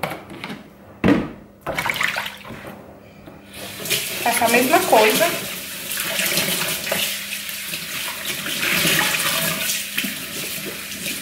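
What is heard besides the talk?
water running from the tap into a basin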